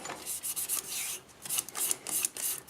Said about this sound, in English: I like to lightly sand it with 400.